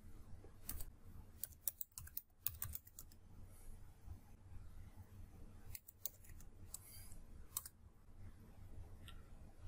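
Rapid typing on a computer keyboard entering a command line, bursts of sharp key clicks separated by short pauses, fairly quiet and close with no talking.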